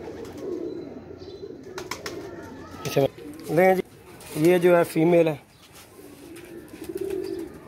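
Teddy pigeons coo nearby in soft repeated calls, rising clearly several times in the middle between stretches of someone talking over them.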